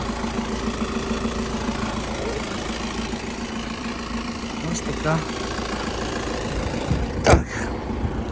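A 2019 Volkswagen Transporter automatic van's engine idles with a steady low rumble throughout, close by, with a brief voice and a sharp click near the end.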